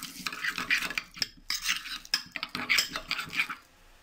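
Cumin and mustard are stirred together with a utensil in a dish, making close, quick, irregular clinks and scrapes in bursts with brief pauses between them.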